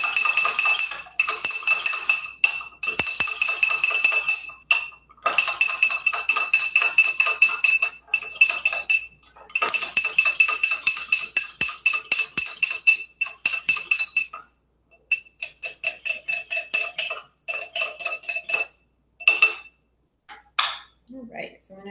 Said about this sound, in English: Just whisk it with a fork.